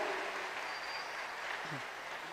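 Church congregation applause rises as a dense, steady clatter of many hands clapping, moderately distant and sustained throughout, with a brief voice near the end.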